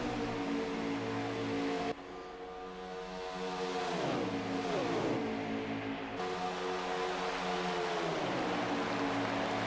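NASCAR race cars roar around the track at Daytona in a racing video game, a steady loud engine drone with pitch-sliding passes as cars sweep by in a pack.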